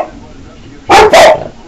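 Two sharp, close dog barks in quick succession after a quiet moment.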